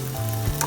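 Cashews dropped into hot ghee for rava laddu, a short steady sizzle of nuts frying close by, with a faint stir partway through.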